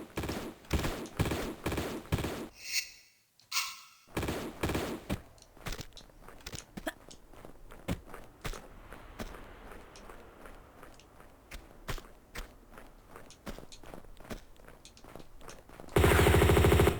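Enemy gunfire in the Tomb Raider Remastered game crackles in fast, evenly spaced bursts of shots, with a brief silent gap early on and a loud harsh blast at the very end.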